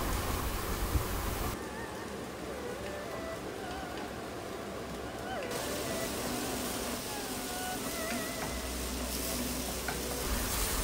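Aubergine and minced ginger stir-fry in hot oil in a wok, giving a steady, close sizzle with soft scraping and stirring throughout and no talking.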